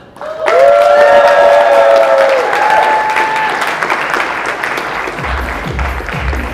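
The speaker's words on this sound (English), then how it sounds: "A nice round of applause one more time for Sonika, Rina, and Neha." A wedding reception crowd breaks into loud, sustained applause, with some cheering tones mixed in, gradually easing off while clapping continues steadily.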